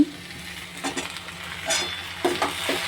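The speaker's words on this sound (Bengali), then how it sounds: "এবার আমি এই ডাঁটাগুলো সব দিয়ে দেব এই কড়ার মধ্যে সবজির ওপরে।" Vegetable stalks sizzle over other vegetables in a kadai, with a few scraping stirring strokes rising above a steady, close frying hiss.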